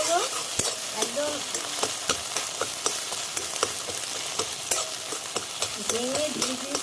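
Egg stir-fried in mustard oil in a kadai for egg bhujia gives a steady close sizzle broken by regular spatula scrapes and clicks, with faint voice-like traces briefly underneath.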